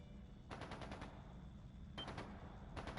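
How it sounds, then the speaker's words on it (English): Bursts of rapid automatic gunfire in a video game, three volleys separated by short gaps, faint and somewhat distant over a low rumbling background. "It's gunfire."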